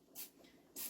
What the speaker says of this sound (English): I'm going to spray my measuring cup with the non-stick spray